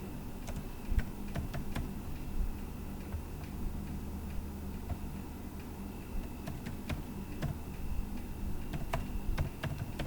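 Keys clatter on a computer keyboard in a quiet room, irregular soft taps with a few sharper clicks spread across the stretch.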